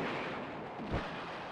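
Weapons firing in the PS2 game Battle Engine Aquila, a dense muffled roar of distant blasts with one deeper thump standing out in the middle, faint beneath the game mix.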